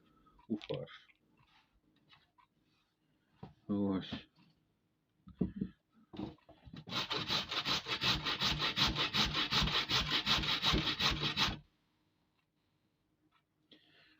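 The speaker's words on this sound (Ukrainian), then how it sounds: "Ось стерли нашу картопельку сюди." Potatoes rubbed over a hand grater for meatballs with potato, making a steady, fast rasping scrape that runs about five seconds, loud and close, after some brief kitchen clatter and short bits of talk.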